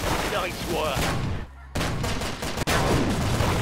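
Dense gunfire bursts in the Roblox shooter Arsenal, loud and continuous, cutting out briefly midway and again near the end before resuming, with no speech.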